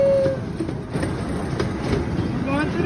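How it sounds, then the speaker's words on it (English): Zoo train ride at Zoo Atlanta rolling along the tracks, a steady rumbling clatter of wheels with faint squeals, heard close from onboard and continuing throughout. "We're riding the train."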